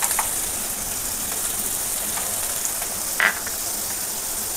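Cashew nuts sizzling in hot fat in a pan while making butter chicken, a steady close frying hiss with occasional small pops and stirring clicks, no talking.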